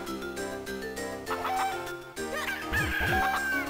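Cuccos, the chickens of the video game Zelda The Minish Cap, cluck over looping game music, with repeated squawking calls layered into the melody.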